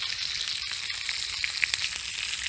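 Bacon and sausage sizzle in grease over a campfire in snowy weather, a steady close crackling fry with occasional sharper pops and no talking.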